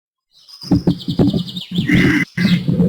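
Bright, bird-like chirps ring out in a rapid irregular series, loud and close, with short trills and a few overlapping calls, heard alone without any talking.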